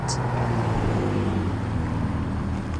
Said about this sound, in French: Alors là, on a la nouvelle Audi R8